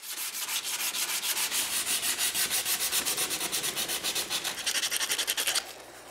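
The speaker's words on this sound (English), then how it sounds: "I sand to 220, spending most of my time making sure all the joints are flush" Oak frame joints sanded flush with 220 grit, a loud, close, rhythmic back-and-forth rasp of paper on wood with steady strokes about five per second, stopping near the end.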